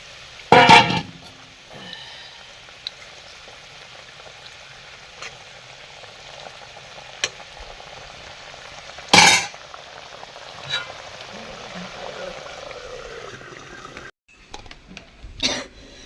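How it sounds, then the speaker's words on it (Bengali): Small puti fish fry in a pan with a low, steady sizzle that runs under the whole stretch, broken by a few sharp, loud bumps and clatters. No one speaks. "এবারে মাছগুলো এর উপরে দিয়ে দিল।"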